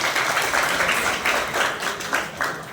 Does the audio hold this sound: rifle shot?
no